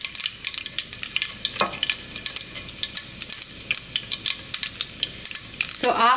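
Mustard and cumin seeds hit hot oil for chana masala, crackling and popping in quick irregular bursts close by, ending in a louder sputtering whoosh.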